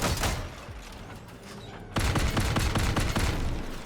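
One Artemis and two Fukibari weapons firing in the Crossout vehicle combat game, a loud stream of rapid, punchy shots that pauses briefly, then resumes at a denser, heavier pace.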